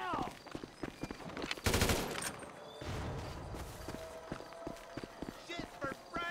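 Bursts of gunfire in the GTA 5 video game crack in rapid volleys among shouting voices, with a dense loud burst near the middle and scattered shots continuing throughout.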